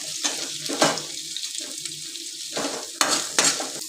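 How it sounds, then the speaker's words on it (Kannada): Sliced onions frying in a pan for mutton sambar, a steady close sizzle with clattering stirring strokes and a few sharper scrapes, no voices. "ಈಗ ಈರುಳ್ಳಿನ ಫ್ರೈ ಮಾಡ್ಕೊಳ್ಳಿ ಸ್ವಲ್ಪ"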